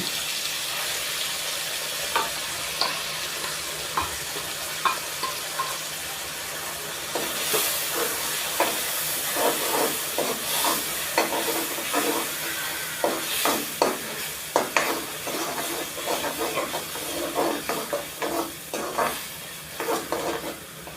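Onion and coconut paste for a Konkani pomfret-style halwa fry sizzles in a frying pan over lowered gas, a steady close hiss with scraping stir strokes growing busier partway through.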